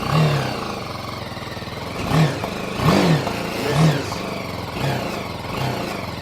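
A BMW G 310 GS motorcycle engine idles and then revs in a series of short, even throttle blips, about once a second, each rising and falling close by.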